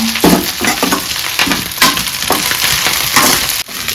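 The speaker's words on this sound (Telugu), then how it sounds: "ఇలా కలుపుతూ ఫ్రై చేసుకుంటూ ఉండాలన్నమాట" Curry leaves being stirred and fried in a pan, loud close crackling sizzle with repeated scraping strokes of the stirring spoon throughout.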